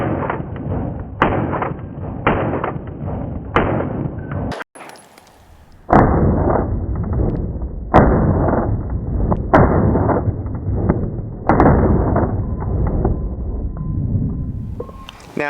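Sharp, loud pistol shots from an Atlas EOS firing 147 grain rounds, each a crisp crack with a short echo, spaced about a second apart in separate groups with a brief pause between them.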